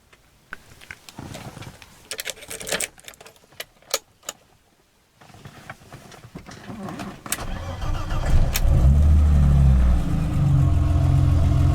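Keys jingle and a few clicks, then the engine of a 1989 BMW 325i E30 coupe with 124,063 miles cranks and catches, settling into a steady, fairly loud idle.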